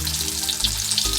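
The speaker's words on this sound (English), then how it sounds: "when you're frying, if you overcrowd" Catfish croquettes fry two at a time in a pan with a steady, close hiss and crackle of hot oil, rising to a fuller sizzle partway through, with no talking.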